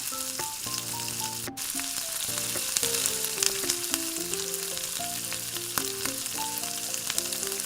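Hot oil sizzles and crackles steadily as chicken fries for chicken kadai, while soft background music with tonal notes plays throughout.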